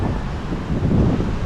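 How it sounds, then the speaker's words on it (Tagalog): Gusty seaside wind roars steadily and loudly across the microphone at a river mouth after the rain has stopped, swelling slightly partway through, with no one talking. "lakas pa rin ang hangin dito"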